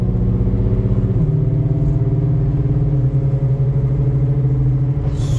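A BMW E90 with an N55 engine running an xHP Stage 3 drag-mode tune pulls at light throttle, a loud, steady, close engine drone with rising and falling pitch as it shifts through gears.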